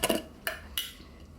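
Tomato paste and a bay leaf dropped into a pot for homemade ketchup, three light metallic clinks of a utensil against the pot, close and quiet.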